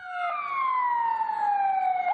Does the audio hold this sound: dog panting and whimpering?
no